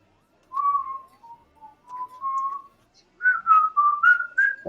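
A person whistles a casual tune during household cleaning, a few short melodic phrases with pauses between them, clear and close, ending in a quicker run of notes.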